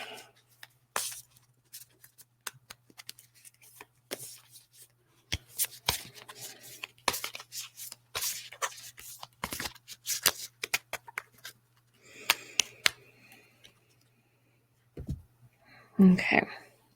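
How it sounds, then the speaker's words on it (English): Cards from a Spirit Cats Oracle deck being shuffled by hand, a run of soft riffling flicks and slides in irregular bursts, close and quiet, with a faint low hum underneath. "I'm just shuffling the cards"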